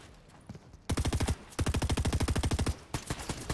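Rapid automatic gunfire in Fortnite comes in two close, loud bursts of evenly spaced shots, with a few scattered single shots before and after.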